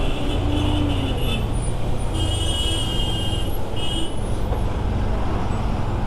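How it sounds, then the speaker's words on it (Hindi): Cars and buses sit in a heavy traffic jam near Trimbakeshwar in Nashik, Maharashtra. Loud, steady engine drone fills the scene, with brief high brake squeals and hisses. "जिधर देखोगे पूरा ट्रैफिक है"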